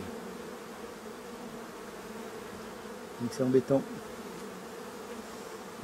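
Honeybees hum steadily and faintly around frames while nucleus hives are being checked, and someone speaks briefly over the buzzing.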